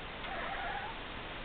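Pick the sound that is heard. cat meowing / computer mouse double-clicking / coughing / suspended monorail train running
cat meowing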